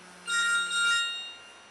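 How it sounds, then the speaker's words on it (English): A telephone in Auckland gives a single short electronic ring, a moderately quiet tonal chime lasting about a second, with no talking. "I'll just answer this phone."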